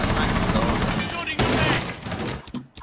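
Rapid shotgun blasts and gunfire in a Rainbow Six Siege round at Hereford, a dense burst of loud close shots with a sharp crack midway and talk mixed in throughout.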